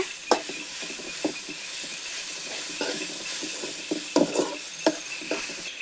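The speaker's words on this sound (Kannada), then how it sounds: "ಇದನ್ನು ಈ ಈರುಳ್ಳಿ ಜೊತೆ ಚೆನ್ನಾಗಿ ಮಿಕ್ಸ್ ಮಾಡ್ಕೊಳ್ಳೋಣ ಈಗ ಇದಕ್ಕೆ ಅಮ್ಮ ಟೊಮೆಟೊ ಹಾಕ್ತಾ ಇದ್ದಾರೆ" Onions and tomato being stirred in a pan for chicken sukka, a steady background sizzle of frying broken by repeated scraping strokes of a spoon against the pan at an uneven rhythm, close and fairly loud.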